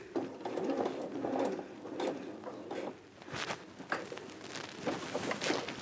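A sewing machine stitches the skirt of a pinafore dress in short, quiet bursts of rapid mechanical whirring, separated by brief pauses and faint handling noises.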